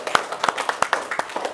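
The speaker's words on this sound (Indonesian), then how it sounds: "Kita berikan tepuk tangan sekali lagi ya." A small classroom group claps briefly after student presentations during a teaching session, irregular separate hand claps forming a short, thin round of applause at close range.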